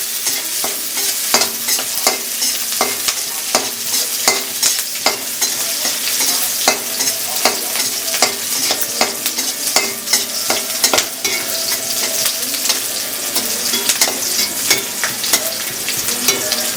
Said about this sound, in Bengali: আদা আদা ভাজা হয়ে গেল